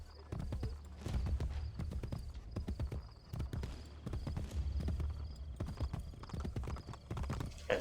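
Horse hooves clip-clopping at a slow, steady walk in the game Assassin's Creed Brotherhood, with a brief whinny and game ambience, heard under intermittent talking from players.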